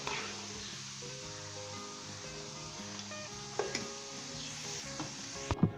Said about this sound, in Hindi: दोस्तों हम इसे लाइट गोल्डन ब्राउन होने तक फ्राई करेंगे।